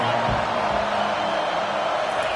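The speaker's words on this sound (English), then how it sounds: "listen to this crowd roar" A football stadium crowd roars steadily at a league game, a dense continuous wash of voices held at an even, loud level throughout without any break.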